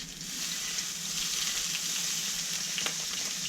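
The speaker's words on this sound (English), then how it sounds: "put some butter in a frying pan" Continuous crackling sizzle of butter frying in a hot pan, steady and close, with a faint scrape partway through, outdoors on the Welsh estuary.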